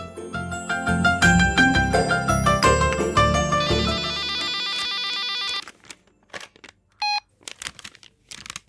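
A telephone rings in a Tamil TV serial scene, a bright electronic tone heard near the end after loud music, with short repeated bursts over a quiet background.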